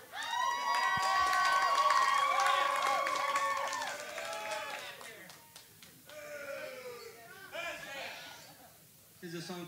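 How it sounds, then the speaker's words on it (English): A Las Vegas concert audience bursts into cheering and applause for a drummer, a loud wash of crowd noise with whoops that peaks early and fades, while a voice speaks over it near the end. "Give him a round of applause."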